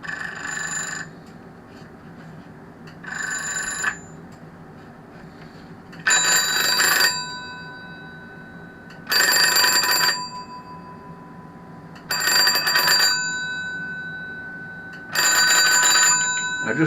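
A GPO 746 telephone's bells ring in four loud, metallic bursts of about a second each, evenly spaced a few seconds apart, with two softer, duller bursts before them while the bell mechanism is adjusted.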